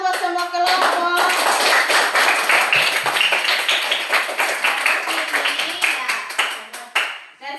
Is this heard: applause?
yes